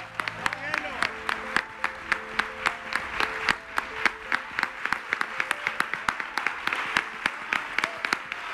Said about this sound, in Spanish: Estos aplausos son para ti,